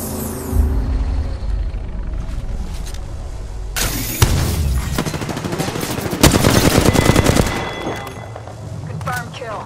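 Weapon fire in the video game Apex Legends, with rapid bursts of loud automatic shots, the heaviest barrage coming near the end over continuous game noise.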